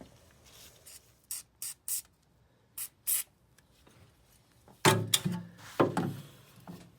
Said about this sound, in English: We should get some penetrant on there first and then move forward.